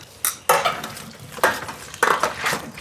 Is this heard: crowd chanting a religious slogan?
no